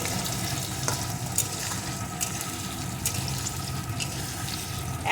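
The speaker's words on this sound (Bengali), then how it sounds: "পেঁয়াজ কুচিটা একটু নেড়ে দেবো" Chopped onion being stirred through frying potatoes in a pan for a rohu fish curry, a steady close sizzle with occasional scraping clicks of the spatula and a watery hiss running underneath.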